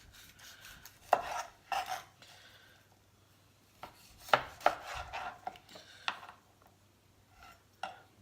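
Knife cutting through smoked cooked chicken, separating thigh from leg, on a board: a few sharp cuts and scrapes spaced across the span, with quiet gaps between, close and moderately loud.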